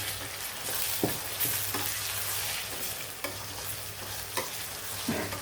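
Onions and tomato sautéing in a pan for Tamil-style chicken biryani, a steady close sizzle with occasional sharp clicks of stirring against the pan, no voices.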